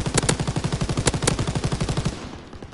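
A heavy machine gun fires in a video game: a fast, steady burst of close, loud shots lasting about two seconds, ending abruptly and leaving a fading echo.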